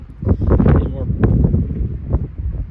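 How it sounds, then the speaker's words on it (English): Gusty wind buffets the microphone across an open farm field, a loud, rumbling roar that rises and falls continuously while someone talks over it. "Of course, the wind picks up."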